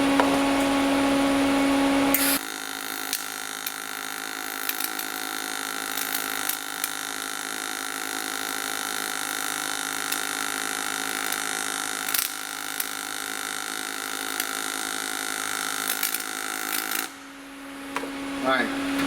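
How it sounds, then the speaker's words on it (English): Pulsed MIG welding on a Miller welding machine set to its Pulsar program at about 19 volts: a long, steady buzzing arc hiss with faint crackles, starting abruptly and cutting off after about fifteen seconds. "right now I'm switched over to Pulsar. This is a program on the Miller machine"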